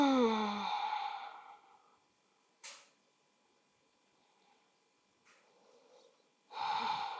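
Slow breaths drawn and released through the nose during a plow pose in a yoga session, a few soft sighing exhales and sniffs separated by quiet pauses, with voiced sound at the start and end.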